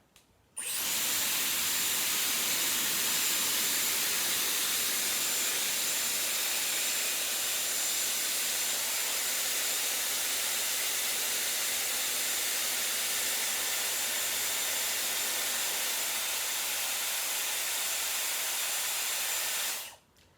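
A Dyson Airwrap hair styler with a 20mm barrel blows a steady, loud rush of air for about nineteen seconds, starting and stopping abruptly, with no talking.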